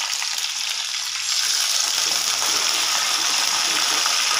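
A tadka of urad dal, curry leaves and red chilli sizzling in hot oil, giving a loud, steady hiss that swells after a moment and stays bright and continuous, with no talk.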